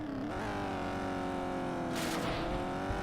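Racing car engine from the video game Test Drive Eve of Destruction, a steady loud drone that holds strong throughout, with a burst of tire-squeal noise near the end and no talk.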